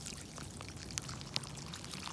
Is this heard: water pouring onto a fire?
yes